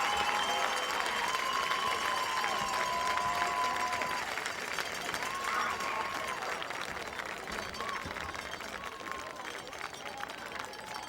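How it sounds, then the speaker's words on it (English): A crowd at a high school football game gives a standing round of applause for the Wayne Hills Patriot Marching Band, steady clapping and cheering from the stands that fades gradually over the clip. "let's return that salute with a standing round of applause for the Wayne Hills Patriot"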